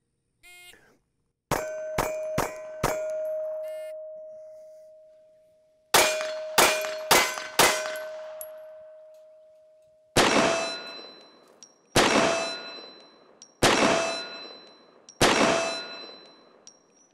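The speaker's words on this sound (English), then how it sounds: "On the beep, I have 3 seconds to come up freestyle, both hands, and fire 4 rounds in 3 seconds." Handgun shots on steel targets at a 7-yard range drill: sharp beeps start each string, followed by quick groups of loud cracks with ringing metallic clangs, then single heavy shots spaced about two seconds apart.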